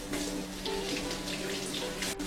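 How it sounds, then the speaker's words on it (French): Cold tap water streams steadily over vegetables being rinsed in a kitchen sink, a close, continuous splashing rush with no speech. "on commence par rincer les légumes à l'eau froide"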